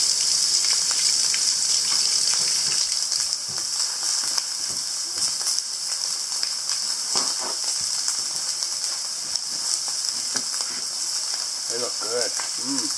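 Steaks sizzling on a hot cooker at an off-grid house, a steady loud hiss and crackle of frying fat running throughout with faint clicks and low background noise.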